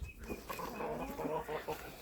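Bantam dwarf chickens clucking in a backyard poultry enclosure, a run of soft, close, irregular clucks and short calls over quiet background murmur.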